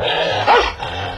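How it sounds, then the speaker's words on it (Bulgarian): A dog growls and barks in a single rough burst, close and loud, with a brief snarling peak in the middle. "Лай, не ми е за първи път да ме лая куче."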